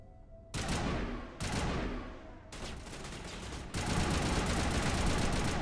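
Heavy game gunfire from Mass Effect Legendary Edition on Feros: loud broadband bursts begin around half a second in, with several sharp onsets that run into a sustained, dense barrage of shots near the listener.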